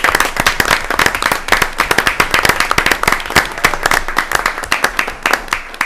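Loud, close applause from a room at a school committee meeting for the indoor sports team, many sharp hand claps forming a dense, rapid patter throughout.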